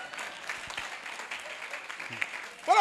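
A church congregation applauds and cheers in praise, a dense, steady wash of clapping and crowd voices that swells louder toward the end.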